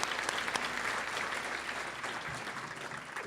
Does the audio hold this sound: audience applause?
yes